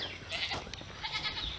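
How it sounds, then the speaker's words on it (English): A pet goat bleats faintly a few times against a steady background hiss, quiet and somewhat distant. "this is my goat"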